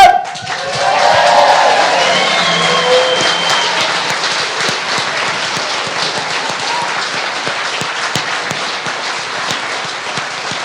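A live motivational-event audience claps and cheers loudly all at once, a dense sustained roar of applause with shouts that stays strong before gradually easing across about ten seconds.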